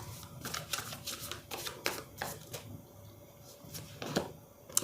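Tarot cards are shuffled by hand in a series of quick, riffling, papery bursts, close and fairly soft, with no talking.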